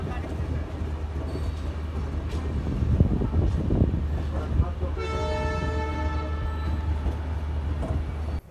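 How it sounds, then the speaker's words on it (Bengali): The Saraighat Express, train 12346 running from Guwahati to Howrah, rumbles steadily over the rails as it pulls away. A loud, sustained horn blast sounds through the second half over the continuous rolling noise. "12:49 ট্রেন তার পরবর্তী গন্তব্যের উদ্দেশ্যে রওনা দেয়"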